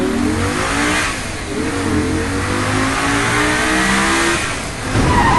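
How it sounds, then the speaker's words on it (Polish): A car engine in the video game Saints Row The Third revs and accelerates continuously, loud and close, with rising and falling engine pitch and a brief dip before a final surge. "samochód jest świetny, ma nitro"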